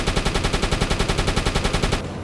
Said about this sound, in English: Alright, the crew is actively shooting at it.